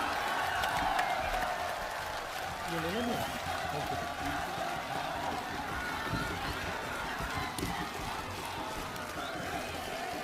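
A large crowd at an outdoor public meeting in Anantnag, Jammu and Kashmir, applauds to welcome Rahul Gandhi, with a dense, steady roar of clapping and cheering that fills the whole stretch, and voices are heard within it.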